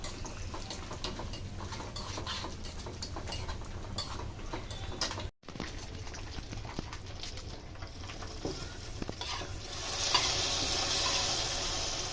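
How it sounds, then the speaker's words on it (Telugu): Cashews, almonds and raisins frying in ghee give a steady, close sizzle with light stirring clicks, a brief dropout midway, then a brighter, louder hiss toward the end; no talking. "ఇప్పుడైతే నెయ్యి వేసుకొని ఇప్పుడు జీడిపప్పు బాదం పప్పు ద్రాక్ష పండ్లు అయితే నేను వేసి ఇప్పుడైతే ఫ్రై చేస్తున్నాను"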